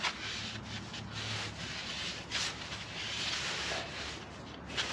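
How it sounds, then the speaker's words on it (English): A rag wipes grease and debris out of a wheel hub in a series of close, soft rubbing and scuffing strokes, each a brief hiss of friction, repeated irregularly at a quiet level with no voices. "I'm gonna clean it out with a rag."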